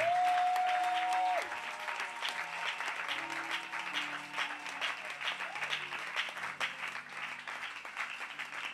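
Church congregation applauding during a Sunday worship service, a steady wash of many hands clapping that runs the whole time, with a held musical tone at the start and faint voices mixed in.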